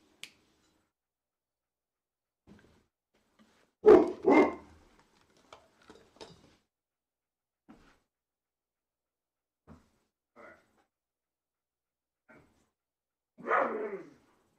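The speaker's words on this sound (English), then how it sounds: "Sorry, actual dogs." Real dogs barking nearby in a quiet room, a couple of sharp close barks followed by scattered faint yips, then one more louder bark near the end, with silence between.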